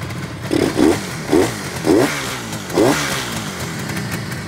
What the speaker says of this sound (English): it's idled down a little bit since then, but it kicks off right away